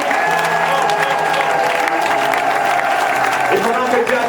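A church congregation applauds and cheers together, a dense steady wash of clapping with raised voices and sustained sung or shouted tones running through it, loud and close throughout.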